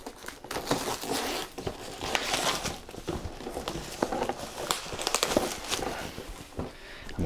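Plastic shrink-wrap crinkling and tearing off an Adeptus Titanicus board game box, close and fairly quiet, with irregular rustles and sharp crackles.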